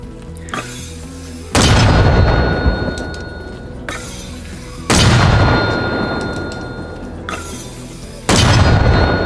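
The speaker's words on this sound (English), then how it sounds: "Before I fire this mortar, keep in mind, after every shot, the mils and the degrees will change." Mortar fire in the Arma Reforger video game: three heavy booms at roughly three-second intervals, each with a sharp onset and long rumbling decay, loud and close, with faint metallic clinks between shots.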